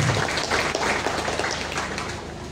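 Applause from an audience at a church celebration in Timor, a steady brief patter of clapping that stays fairly loud throughout, with no talking over it.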